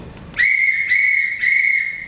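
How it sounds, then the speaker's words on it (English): An officer's whistle gives three loud, shrill blasts in quick succession, each a sustained piercing tone heard up close with no talk around it. "I pulled out my officer's whistle and I blew it as loudly as I could."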